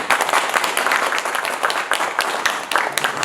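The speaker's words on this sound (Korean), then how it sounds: "박수 한번 부탁드립니다" An audience at a Korean event about restoring native hibiscus trees breaks into dense, steady applause for a hibiscus expert, many hands clapping loudly and continuously.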